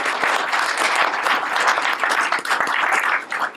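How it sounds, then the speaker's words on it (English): A symposium audience claps for a panel speaker, sustained applause with individual claps audible throughout, loud and close, with no speech on top. "let's give a round of applause to Ms. Joyce Mucci."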